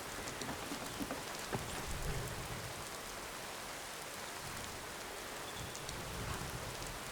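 Rain falls steadily in the video game Skyrim, a soft continuous patter of drops on surfaces with a few faint louder spatters, quiet and alone without any talk.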